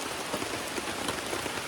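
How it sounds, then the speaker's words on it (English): Rain falls steadily, a dense continuous hiss of drops pattering on surfaces outdoors on a walking trail, even and unbroken with no voices. "Another rainy day."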